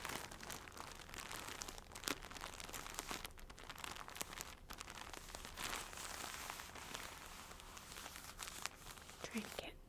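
Plastic wrapping on a cartoon-pattern home-decor rug from a shopping haul crinkles and crackles continuously and close up, with soft, quiet speech running underneath.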